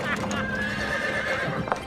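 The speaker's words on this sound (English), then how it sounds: "It's Champion the Wonder Horse!" A horse whinnies with a long, bright, wavering call while hooves clop steadily beneath it, close and clear, with voices faintly mixed in.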